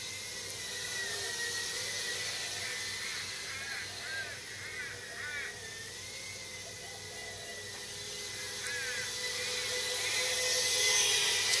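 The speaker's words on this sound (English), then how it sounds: "that's why you can hear the drone as it gets up close" Small drone with a high-pitched rotor whine hovering close by outdoors, steady and fairly loud throughout, swelling slightly as it draws nearer.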